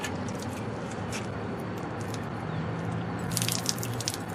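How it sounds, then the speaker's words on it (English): Rain falls steadily outdoors, a dense patter of drops with wetter, brighter splashes growing toward the end; continuous and fairly close, with no talking. "It's raining. In fact, it's raining right now."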